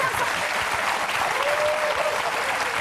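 A crowd applauds in a hall, a dense continuous patter of many hands throughout with a faint voice rising above it.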